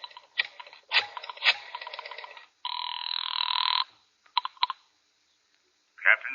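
An old-fashioned telephone bell rings in one loud continuous burst at a phone booth outside a tobacco store, amid dial clicks and handset clatter before and after.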